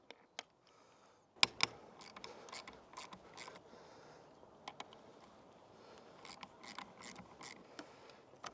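Faint, close metallic ratcheting and clicking of a 5mm Allen key loosening handlebar bolts on a Honda CRF300 Rally motorcycle, with sporadic sharper ticks over a quiet background.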